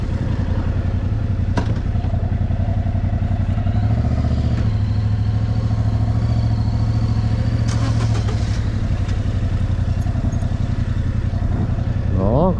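A 2024 Yamaha MT-07 rides along on a first ride, its 700 cc twin engine giving a steady, loud, close drone with slight rises in revs, and wind noise runs throughout.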